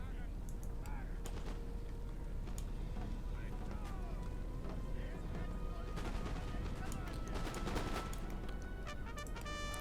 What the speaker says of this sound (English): you can see these Musketeers being sent in to take some volleys